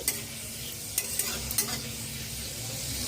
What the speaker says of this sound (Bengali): রসুন ভেজে তুলে নেব